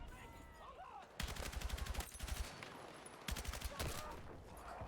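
A rifle fitted with a muzzle brake fires in Battlefield 6, two long rapid automatic bursts, loud and close, separated by a short pause over the background noise of the battlefield.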